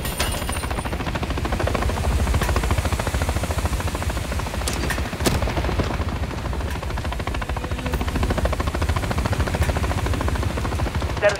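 Military helicopter in Call of Duty Modern Warfare III, a steady loud rotor and engine drone, mixed with bursts of gunfire and combat noise throughout.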